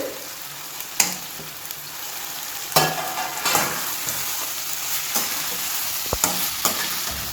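Vegetables, including carrot and peas, sizzling in a pan over low heat with occasional scrapes and clacks of a spoon stirring, a steady frying hiss underneath, close by.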